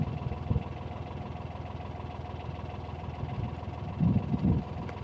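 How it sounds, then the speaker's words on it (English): Two narrowboats pass each other on a canal, their engines making a steady low idling chug with a couple of slightly louder swells as they go by, and no talk. "Here we have two boats passing."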